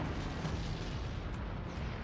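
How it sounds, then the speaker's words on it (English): Explosions in the Forts artillery strategy game, a dense, low rumbling barrage of booms and blasts blending into continuous roar at moderate distance, fairly quiet, no talking. "Explosions on all fields."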